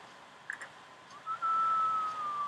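A sleeping Sim in The Sims 3 lets out a whistling snore: a few faint chirps, then one long steady high whistle that slowly drops in pitch, quiet and alone.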